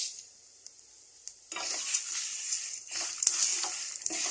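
Red chillies, tamarind and sesame seeds fry in a pan, a soft sizzle that starts after a quiet moment and then carries on close by with light scraping stirs and occasional crackles.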